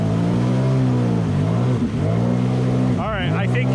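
Sea-Doo Spark Trixx personal watercraft with a tuned engine accelerating, a loud close engine drone that holds steady, dips briefly, then rises in pitch as it revs near the end.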